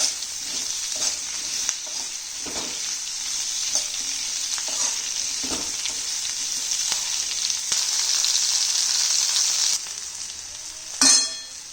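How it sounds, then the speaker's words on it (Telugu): Onions with a pinch of turmeric fry in a pan, a steady bright sizzle running throughout, broken by occasional scraping stirs and a sharper clatter near the end. "ఇది గోల్డెన్ బ్రౌన్ వచ్చే వరకు మగ్గనివ్వాలి"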